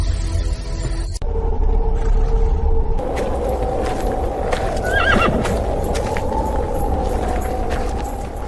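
A horse pulling a tonga, a horse-drawn carriage, gives a loud, close whinny, with clip-clopping hooves and a low rumble of wheels running steadily underneath.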